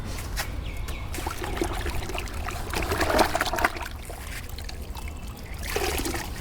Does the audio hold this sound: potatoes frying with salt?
no